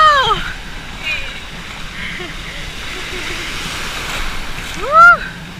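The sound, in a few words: ocean waves breaking at a beach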